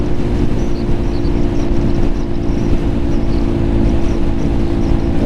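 A Lifan KPM 200 motorcycle with a 200cc engine runs at high throttle near 80 mph, giving a loud, steady droning engine hum mixed with rushing wind noise throughout, with no talk.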